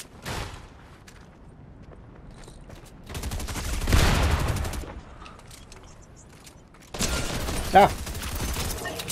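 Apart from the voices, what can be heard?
gunfire in a video game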